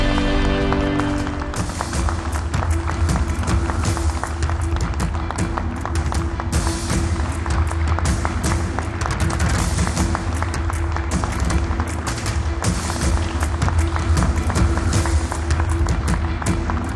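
An audience at a live open-mic stage event gives a welcome for mountaineer Chitrasen Sahu with loud, sustained applause. The dense clapping runs without a break over a steady low hum from the hall's sound system.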